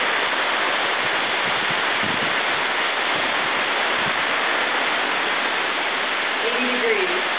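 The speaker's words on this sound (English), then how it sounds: "Sun is shining and it is pouring rain." Heavy tropical rain pours steadily on St. John in the Caribbean while the sun shines, a dense continuous hiss throughout, with a brief voice near the end.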